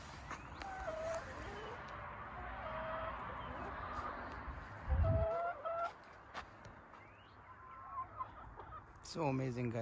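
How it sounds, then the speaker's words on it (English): Hens clucking in a farmyard, with repeated short calls scattered through a steady background of several birds; one louder, closer burst comes about midway, and a voice may be faintly present. "Look at the beautiful hens"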